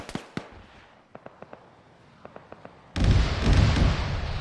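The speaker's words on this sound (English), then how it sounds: "they're firing at me now" Gunfire in Arma during a large team battle, scattered distant cracking shots followed by a sudden loud, dense roar of sustained fire.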